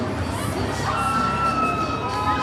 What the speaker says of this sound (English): This crowd is fired up in Hialeah.